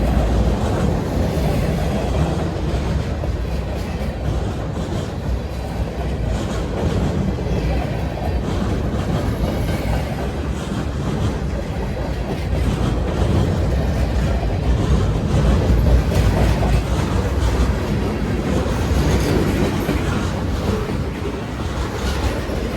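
Long freight train of about 160 cars rolling past, with tanker cars near the end: a steady, loud rumble and clickety-clack of wheels on rails that holds throughout, with faint wheel squeal.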